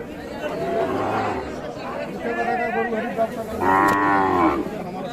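Sahiwal cattle at a busy cattle market give several drawn-out, resonant moos, one stronger near the end, over steady crowd chatter and nearby talk.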